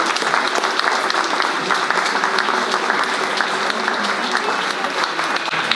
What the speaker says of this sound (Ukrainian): Друзі, нехай ваші оплески не вщухають.